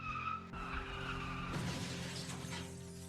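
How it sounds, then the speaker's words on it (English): A car in the game Don't Hide skids off the road and crashes into a tree: a sustained engine and tire-skid roar that builds to a loud, dense impact burst midway, with no talk over it. "You drift off the road to crash into a tree."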